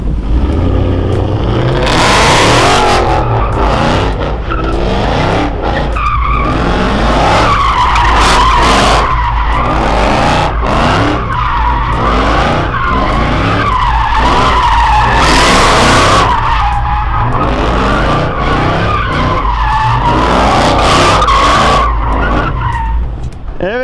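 Continuous tire squealing and skidding as a Mercedes-Benz C63 AMG drifts in a closed parking lot, with the engine revving and roaring throughout, loud and close.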